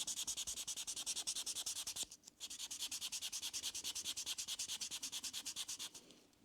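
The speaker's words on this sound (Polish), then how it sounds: "I także póki jeszcze jest mokre, szlifuję." Rapid, even back-and-forth strokes sand a wet leather edge, close and rhythmic, with a brief pause near two seconds before the rubbing resumes and then tapers off.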